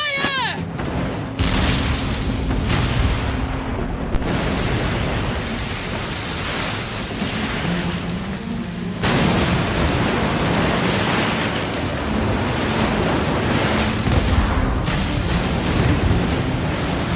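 Ship cannons roar in a naval battle in the game Like a Dragon: Pirate Yakuza, a dense, continuous wash of heavy booms and rumbling blast noise with a sharp surge partway through, loud and sustained throughout.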